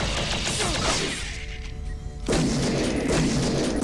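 Minigun fire hammering a wall in the video game Shadowgrounds, heard as a dense loud rattling roar that drops out for about a second and then slams back in at full strength.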